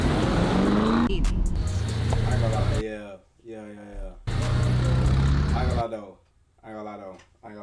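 Lamborghini sports cars driving through Atlanta streets, loud engine roars surging and fading in bursts between quieter gaps, with people talking over the pauses.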